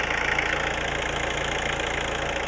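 A Jeep Cherokee's big family engine idles close by with a loud, steady, even rhythmic chug and a constant low hum. No voices are heard.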